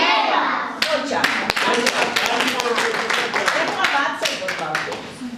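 Hands clap repeatedly at a party, a string of sharp close claps over excited children's voices and adult speech.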